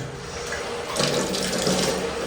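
Water runs steadily from a tap into a sink, a continuous close rushing splash that grows slightly fuller and louder partway through, with no voices.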